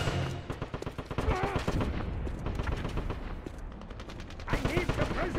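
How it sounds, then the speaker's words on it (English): Rapid automatic gunfire and bursts of shots in the World War II shooter Wolfenstein, dense and continuous across the scene with booming impacts and shouted voices mixed in. "I need suppressing fire!"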